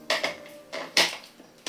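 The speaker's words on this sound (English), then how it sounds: "I'm going to chop my garlic" Garlic being chopped with a knife on a cutting board, several sharp close knocks in an uneven rhythm, loud and alone.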